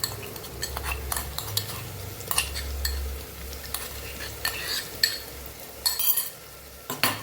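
Onion frying in a pan with ginger-chili-garlic paste for Kathiyawadi masala khichdi, a soft sizzle under repeated scraping and clinks of a stirring spoon against the pan, close and steady with no talk.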